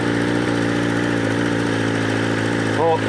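A superbike engine idles steadily at cold-start revs with a deep, even rumble and rhythmic pulsing, a brief pitch wobble near the end.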